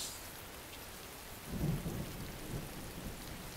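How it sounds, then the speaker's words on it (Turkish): Steady rain patters down, with a low rumble swelling partway through, like distant thunder rolling beneath the downpour. "Yağmur damlalarının yüzüme vurmasını seviyorum ben."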